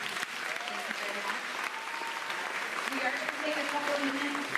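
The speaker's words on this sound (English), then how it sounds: "Another round of applause for them, please." Sustained applause from an audience at a plenary session, honoring the opening speakers, steady and fairly loud throughout, with a few voices and whistles rising above the clapping.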